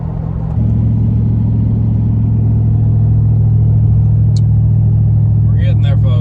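A GMC Denali truck set up for drifting with an MSD 2-step holds a loud, steady, deep engine drone that swells slightly after a brief opening, running close and unbroken throughout.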